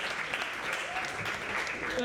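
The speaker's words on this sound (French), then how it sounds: "Vous pouvez les applaudir chaleureusement." An audience at a talent show applauds the third-place winners with a steady, dense wash of clapping that lasts the whole clip. The clapping is moderately distant, and voices can be heard faintly underneath it.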